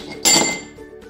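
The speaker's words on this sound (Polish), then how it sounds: "daję 3 kostki lodu" Three ice cubes dropped into a glass for iced Dalgona coffee, landing together in one sharp clinking clatter that rings briefly and fades, close and clear.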